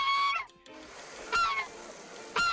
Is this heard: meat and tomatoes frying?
no